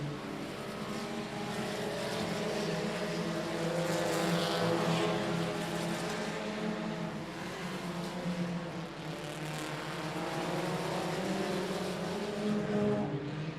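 Dirt-track race cars lapping at I-37 Speedway during a night feature, a steady, fairly distant engine roar that rises and falls gently as the pack circulates, with no voices over it.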